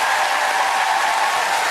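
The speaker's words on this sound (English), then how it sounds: "Huge round of applause, please, for Cayle and Bronwyn." A television studio audience gives a short, dense burst of applause for guests on a light-entertainment show, a steady wash of clapping with no talking.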